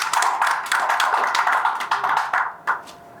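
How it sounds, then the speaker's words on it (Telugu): An award-ceremony audience applauds, a dense, fairly close burst of clapping that holds steady for a couple of seconds, then thins into scattered claps and trails off. "ముదిరాజు గారికి ఒకసారి ఘనమైన చప్పట్లు"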